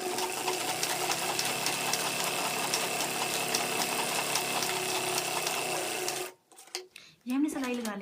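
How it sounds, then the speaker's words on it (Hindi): Sewing machine stitching elastic into a kids' umbrella skirt, a steady close mechanical whir with rapid needle clatter running continuously for about six seconds before stopping, followed by brief speech. "अब हम यहाँ से सिएंगे इसको।"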